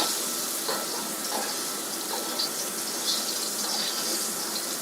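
Picanha fat cap sears in a very hot wok with smoking oil, giving a steady, close sizzle of frying with faint crackles throughout and no voices.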